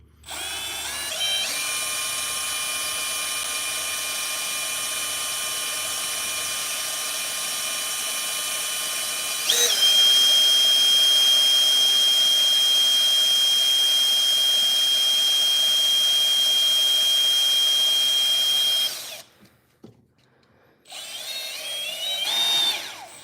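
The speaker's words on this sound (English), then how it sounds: "So you actually have to kind of drill with a little bit of pressure, but just let it kind of melt its way through so you don't bust the windshield." A drill slowly melting its way through the plastic windshield of a Hot Wheels die-cast toy car, a loud sustained whine that steps up in pitch partway through, then cuts out briefly before a short final burst.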